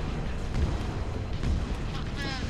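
Explosions from bombing in the video game Halo Reach: dense, continuous low rumbling booms with several heavier thuds, steady and loud throughout, no voice.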